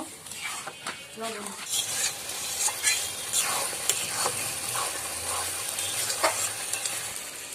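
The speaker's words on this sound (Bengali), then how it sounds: "একটু জল দিয়ে দিব মশলাটা ভালোভাবে ভোনানোর জন্য" Spice masala frying in a pan with a splash of water at a picnic cookout, a steady sizzle under repeated scraping stirs and light clinks of the utensil against the pot.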